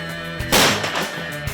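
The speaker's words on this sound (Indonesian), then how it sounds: "saat dibuka ini, gas yang terkumpul akan meledak dan membuat beras-beras di dalam meloncat keluar" A rice puffing cannon is opened and bursts with a single loud, sharp boom over a low mechanical hum, followed by a short rushing, crackling decay as the puffed rice spills out.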